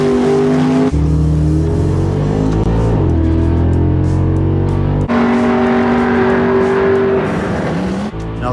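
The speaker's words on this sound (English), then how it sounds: "the slick cars tend to be pretty noisy" Loud racing engines of slick-tired drag cars, including a Malibu, at the strip's starting line, with droning, revving tones that rise and fall and two sharp shifts in pitch, close and with no talk.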